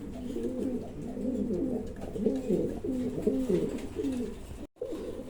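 Pigeons coo in a steady, rolling series of low throaty calls, close and fairly loud, from a pair kept for sale while the hen sits brooding on her eggs; a brief gap interrupts near the end.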